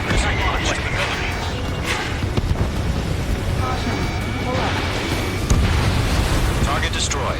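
Rumbling in-game explosions from a fighter-jet combat mission in Ace Combat 7 as a target is destroyed, a dense, continuous boom-laden roar with a sharper burst near the end, under radio chatter.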